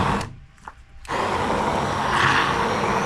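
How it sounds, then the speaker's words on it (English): An immersion blender whirs steadily through a bowl of cottage cheese pizza ingredients, starting with a brief burst, pausing, then running continuously and fairly loud, close by. "I'm going to take my immersion blender and mix all this together."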